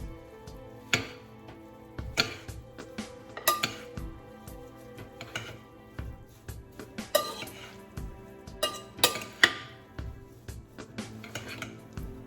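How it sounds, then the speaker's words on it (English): Tabbouleh salad ingredients are stirred and tossed in a bowl, with irregular clinks and scrapes of a utensil against the dish, close and fairly quiet, without talk. "Mix all the ingredients."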